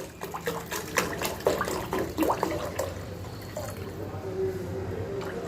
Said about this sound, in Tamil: தண்ணி விட்டுக்கோங்க.